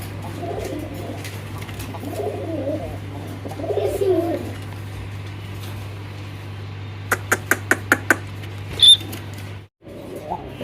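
Fancy pigeons, a pair of black-faced birds among others at a Bangladeshi pigeon seller's stall, give soft low cooing murmurs under a steady background hum, followed by a quick series of sharp taps near the end.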